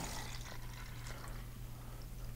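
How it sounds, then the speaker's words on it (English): Coke poured from a can into a clear plastic cup, a continuous soft liquid pour with faint fizzing trickle, steady and close for a couple of seconds, no voices. "simply just pour it into the cup"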